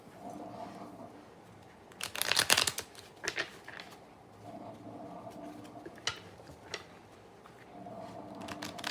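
Paper cards are riffled and shuffled in a few quick crisp bursts, with quieter shuffling and tapping in between.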